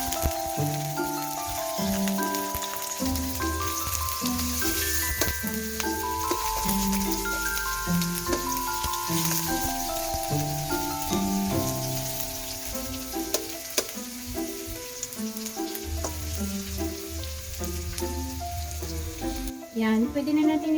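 Onion frying in a pan for a fried tilapia dish with cabbage and pechay, a continuous close sizzle with stirring scrapes. Music plays throughout.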